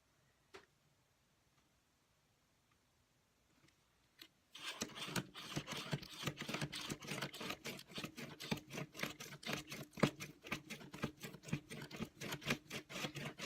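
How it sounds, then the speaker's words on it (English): Scissors snip quickly and rhythmically through a stack of about 22 to 24 sheets of paper, after a quiet start. "So again, I'm cutting through 22 pieces of paper."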